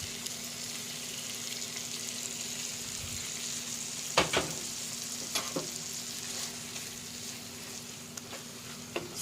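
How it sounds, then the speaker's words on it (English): A Mexican tostada filling simmers and sizzles in a pan, giving a steady close crackle throughout with a few sharp clinks and spatters and no voices. "Now let it simmer for 3 to 5 minutes."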